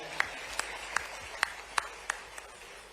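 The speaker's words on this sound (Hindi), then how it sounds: "जोरदार ताली बजा आपने।" A few sparse, sharp claps from the audience at a regional industry conclave, spaced roughly every third of a second over a low room murmur, faint and distant rather than full applause.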